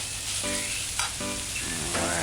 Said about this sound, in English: stir fry and kind of flavor up all the mushroom with the chicken and the herbs, the vegetables and all.